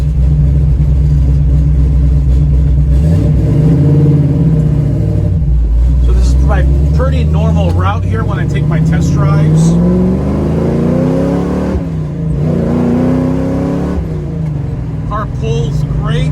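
A 1967 Chevrolet Camaro accelerates hard with a loud rumbling engine, the pitch climbing and dropping across several gear shifts, heard close from inside the car with people talking over it.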